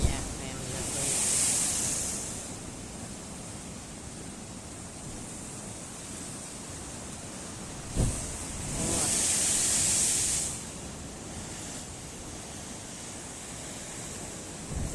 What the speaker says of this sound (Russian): могу насмотреться на волны, как бушуют волны